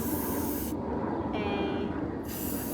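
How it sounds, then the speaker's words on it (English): An aerosol can of spray paint hisses in a continuous loud spray across a phone being decorated, with one brief break and then a return to the steady hiss. "taking my spray paint here and creating"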